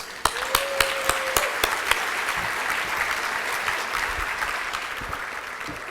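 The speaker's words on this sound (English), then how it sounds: "can we get another round of applause for Jim?" Audience applause at an annual charity breakfast event, a steady wash of many hands clapping continuously at moderate distance, with a few sharper claps near the start and no speech.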